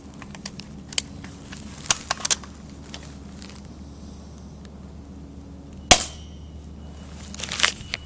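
A Skorpion Double Eagle airsoft gun fires BBs in a few sharp, isolated snaps spread over several seconds, with quiet gaps and a louder crack near the end.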